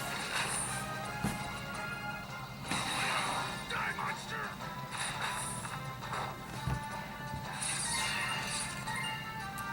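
In the mobile video game Slingshot Braves, a character smacks into an enemy: quiet game audio with a few sharp crashing thwacks, the clearest near 1.3 and 6.5 seconds, over a continuous mechanical rattling background.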